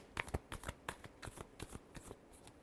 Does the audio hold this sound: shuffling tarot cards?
yes